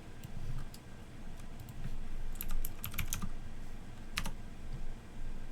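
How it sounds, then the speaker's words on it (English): Close, quick typing on a computer keyboard, irregular clusters of crisp key clicks with short pauses in between and no voice. "Let me type that up."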